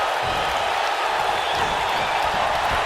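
A steady, moderately loud arena crowd roar with cheering from the WWE 2K19 wrestling video game, a continuous wash of noise throughout a tag match with no distinct claps standing out.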